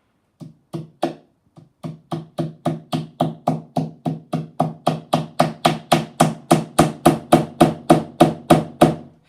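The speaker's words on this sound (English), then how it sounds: "hammer it in to keep the lever in place" Steady series of about thirty sharp hammer blows driving a tack into a shield rim on an anvil, a few hesitant taps first, then a regular, quickening rhythm, close and loud with no talk.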